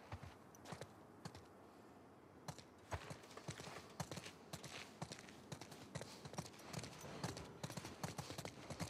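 Horse hooves clip-clopping at a walk in The Last of Us Part II, a quiet, uneven run of close, sharp knocks with faint background ambience.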